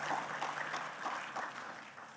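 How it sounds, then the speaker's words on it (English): Applause from the audience at an aviation symposium opening ceremony, a short, fairly faint patter of clapping with no talk over it. "A round of applause as he goes to take his seat."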